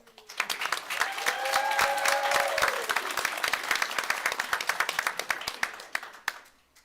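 Audience applause at a school board meeting, a steady dense wash of clapping that swells and holds for several seconds before tapering off, with a brief voice tone early on.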